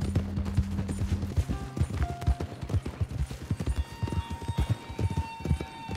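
Horse hooves clip-clop in the Red Dead Online video game, a steady close trotting rhythm alongside occasional tack jingles and faint in-game ambience, with no speech.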